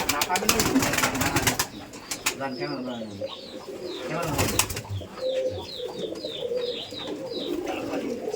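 Pigeons on a farm coo steadily in soft, rolling calls, with occasional wing flutters. Someone talks over the flock throughout.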